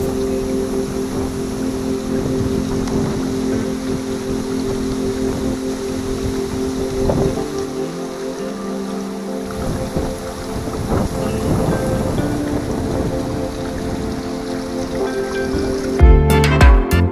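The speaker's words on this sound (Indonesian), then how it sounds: "Dia tertiup oleh hembusan angin ya" Wind blowing through trees beside the rice fields of Cibadak in the Sundanese countryside: a steady, loud, rushing roar with gusty swells and microphone buffeting, ending in a brief thump.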